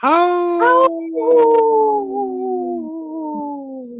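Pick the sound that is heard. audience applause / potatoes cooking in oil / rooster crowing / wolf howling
wolf howling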